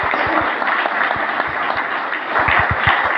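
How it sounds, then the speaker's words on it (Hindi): An audience at a company leaders' meeting applauds loudly. Dense, continuous clapping fills the room at a steady level, with a few sharp low thumps near the microphone and no talk. "जोरदार ताली होनी चाहिए।"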